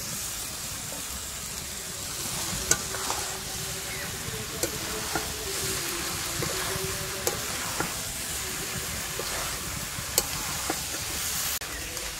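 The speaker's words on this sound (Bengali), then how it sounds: "ভাজা হয়ে গেছে, এবার আমি এই এঁচোড়টা আর আলুটা ঢেলে দিচ্ছি।" Jackfruit and potato fry in a pan with tomato paste, a continuous quiet sizzle and hiss with occasional spatula scrapes and taps on the pan at irregular intervals, alone without speech.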